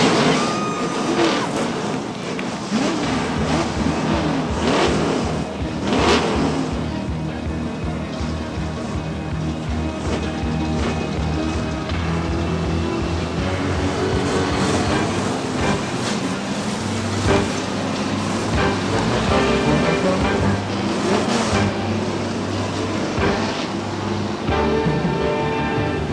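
Stock car engines fire up and rev at Beech Ridge Motor Speedway weekly racing in 1992, a loud, sustained rumbling roar with surging throttle swells and rough idling, filling the air without letup.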